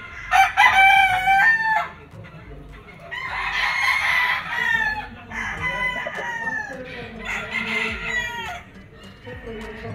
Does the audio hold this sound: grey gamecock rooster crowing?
yes